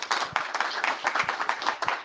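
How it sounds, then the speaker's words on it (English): An audience claps at the close of a journalism media week talk, a steady patter of many hands filling the short stretch from start to finish. "Big round of applause."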